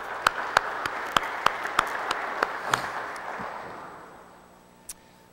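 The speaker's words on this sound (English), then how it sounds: "Let's give her a hand clap." Audience applause at a morning church gathering: a run of sharp, fairly evenly spaced claps from a small group that thins and fades over a few seconds, ending with one last stray clap.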